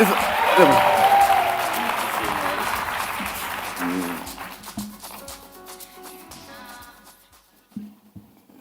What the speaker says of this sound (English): please put your hands together